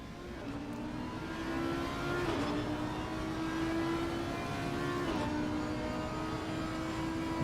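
A sim racing game's race car engine accelerates, a fairly faint, steady rising drone with two gear shifts, heard alone without talking.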